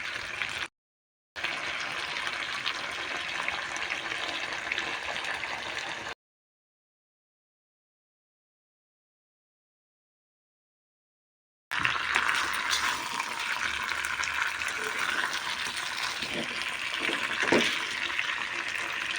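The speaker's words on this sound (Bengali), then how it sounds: "তারপরে ওর মধ্যে জল অ্যাড করবো।" Water pours steadily into a pan of chicken curry with potatoes, a broad continuous splashing rush with a brief gap early and a long silent stretch before it resumes, fairly loud and without talk.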